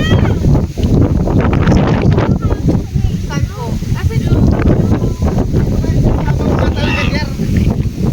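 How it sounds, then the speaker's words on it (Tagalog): Strong wind roars and buffets the microphone in a steady, loud rush near a tent on a hike, with people talking over it throughout. "unti-unti nang palakas ng palakas ang ihip ng hangin"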